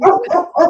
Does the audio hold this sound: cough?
no